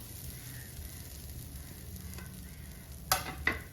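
Grated coconut being stirred into roasted dried shrimp in a pan for a dried prawn chutney powder, a soft steady scraping and faint sizzle with two sharper spoon clatters near the end.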